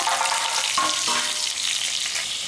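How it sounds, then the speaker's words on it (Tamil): Steady loud sizzling of curry leaves dropped into hot oil, crackling continuously for the whole stretch with no talking. "இதில் ஒரு இனுக்கு கருவேப்பிலை எடுத்து வச்சுருக்கேன் இதையும் சேர்த்துக்கலாம்"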